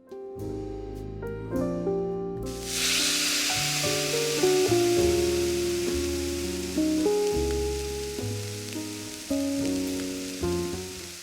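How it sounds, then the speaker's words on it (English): Carrots sautéing in a generous amount of olive oil in a soup pan, a steady loud sizzle that bursts in after a couple of seconds and continues under background music. "in a soup pan, in a generous amount of olive oil, saute these until golden"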